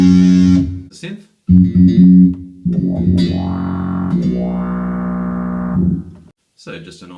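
Bass guitar run through the synth effect of a Boss ME-8B multi-effects unit, giving sustained buzzy synthesized bass notes in a few phrases separated by brief gaps, loud and close.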